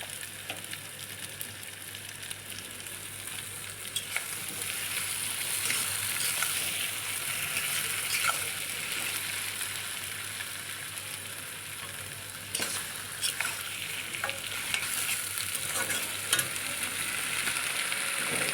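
Goat head meat pieces are stir-fried, producing a continuous, fairly loud sizzle that swells and eases as they are turned, with scattered scraping clicks of a spatula.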